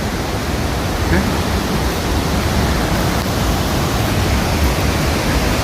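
Continuous rushing water of the Bhunsa stream, loud and close, a dense unbroken roar like a fast stream flowing over rocks.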